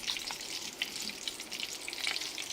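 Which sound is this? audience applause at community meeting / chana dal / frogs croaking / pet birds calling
chana dal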